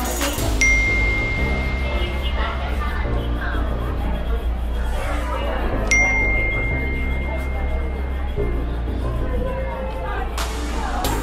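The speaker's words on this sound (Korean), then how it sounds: "모르는 번호로부터의 메시지 도착 알림음이 나의 귀를 간지럽혔지" A phone message notification chime rings out in a busy airport terminal, two short bright tones several seconds apart over steady crowd babble and hubbub.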